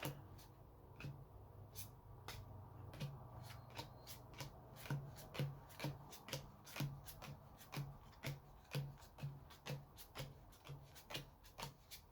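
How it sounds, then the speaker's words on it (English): Playing cards for a Lord of the Rings card game being riffled and shuffled repeatedly at close range, a steady series of crisp, rhythmic bursts in a quiet room. "Shuffle again."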